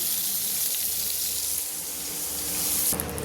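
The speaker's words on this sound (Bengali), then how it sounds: "ওই তেলের মধ্যে তেজপাতা, শুকনো লঙ্কা, গোটা গরম মশলা ফোড়ন দিলাম" Bay leaf, dried red chilli and whole garam masala spices sizzle in hot oil after frying pointed gourd, a continuous close crackling hiss that swells briefly near the end.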